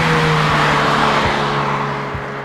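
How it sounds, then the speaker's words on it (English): A Mazda MX-5 RF ND2 engine revs strongly toward its 7,500 rpm redline, a loud, sustained engine note heard close up from inside the car that tapers off slightly at the end. "It revs very strongly,"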